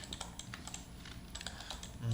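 Computer keyboard keys are tapped repeatedly, including the G key pressed again and again while modeling in Maya, giving quick light clicks at close range over a soft background hum.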